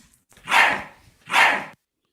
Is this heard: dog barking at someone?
yes